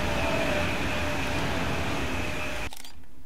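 Electric high-speed DB BR 401 train in Train Sim World 3, a steady loud rolling rumble with faint tonal whine, cutting to near silence at the end.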